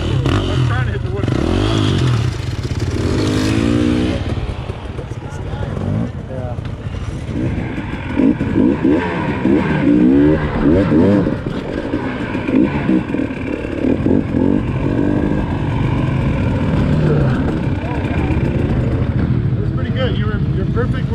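An enduro dirt bike revs and throttles up over an obstacle during hard enduro training, its engine rising and falling with clattering and scraping close by, while people talk throughout.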